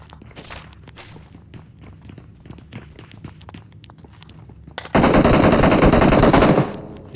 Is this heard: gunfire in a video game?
yes